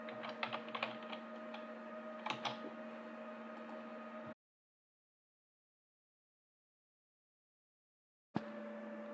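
Quick clicking keystrokes on a computer keyboard while a sheet name is typed in a spreadsheet, a close, fairly quiet run of taps before a long silence and a brief return of sound.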